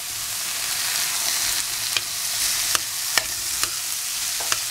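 Tomatoes fry in a pan for egg kothu parotta, giving a constant sizzling hiss. A handful of sharp clicks from stirring stand out against the hiss, and no voices are heard.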